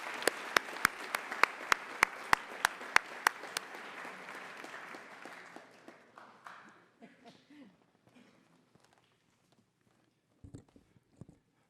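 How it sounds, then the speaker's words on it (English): Crowd applause at a school department awards ceremony, starting with sharp regular claps over a full clapping crowd, then fading out into near silence with a few faint stray sounds at the end. "Give yourselves a round of applause"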